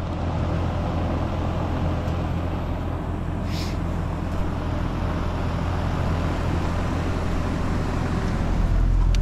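A Rheem heat pump package unit's condenser fan running after the thermostat wires are jumped red to yellow, a steady loud low drone and whoosh with a constant rumble throughout.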